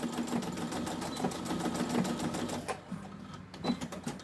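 A sewing machine stitching forward and backward on a fabric scrunchie, a rapid even mechanical chatter that runs steadily, pauses briefly, then resumes, close and fairly quiet.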